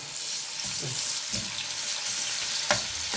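Garlic cloves dropped into hot oil in a pan for Egyptian-style potatoes, giving a bright, dense hiss of frying close by with a few soft thumps and clatters, no voices.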